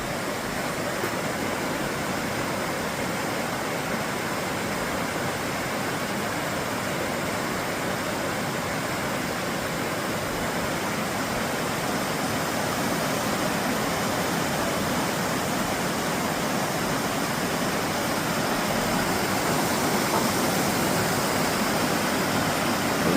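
A winter waterfall in frozen nature roars as a steady, broadband rush of falling water, constant and unbroken throughout, heard alone without voices.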